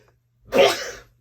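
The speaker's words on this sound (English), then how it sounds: "Oh, hang on, I've got to sneeze." A single sharp sneeze, sudden and close, rising to a burst and tailing off quickly in otherwise quiet surroundings.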